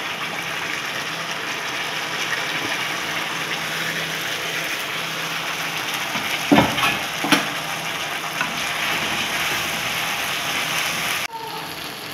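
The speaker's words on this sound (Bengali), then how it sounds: "এখন আমি মশলাটা দিয়ে কষাবো।" Spice masala frying with browned onions in a pan, a steady close sizzle with a couple of sharp stirring scrapes in the middle and an abrupt drop near the end.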